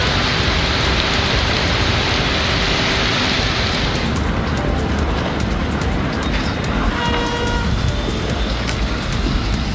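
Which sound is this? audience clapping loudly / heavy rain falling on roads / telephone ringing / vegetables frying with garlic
heavy rain falling on roads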